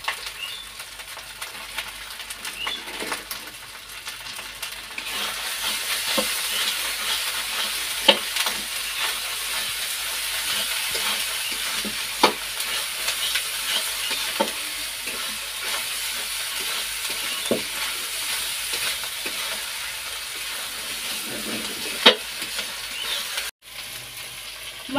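Spice paste (masala) is stir-fried in a pan, giving a continuous close sizzle with repeated scraping strokes and occasional sharp clacks of the spoon against the pan, with no talking.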